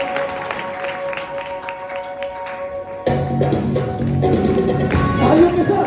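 A church congregation claps together at a worship service, a steady wash of hand claps that swells and grows louder midway, with a soft sustained tone running beneath at first.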